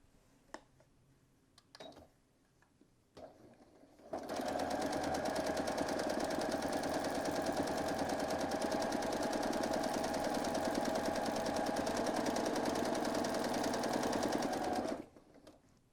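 A sewing machine stitches free-motion quilting in a letter L pattern. A few soft clicks and taps come first, then the motor runs in a loud, steady, rapid whir for about eleven seconds before stopping abruptly.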